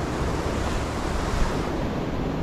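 Ocean waves wash and surge around a small fishing boat at sea, a steady broad roar with wind buffeting the microphone, no talk.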